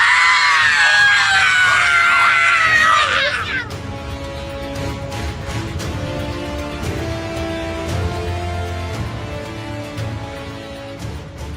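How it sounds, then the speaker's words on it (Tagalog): A woman lets out a loud, shrill, sustained scream as a sound effect in a Filipino aswang horror audio story. The scream wavers for about three seconds, then breaks off abruptly into low, eerie, droning background ambience. "Umalpas ang napakalakas na sigaw ni Dayang mula sa loob ng kwartong kinaroroonan nila."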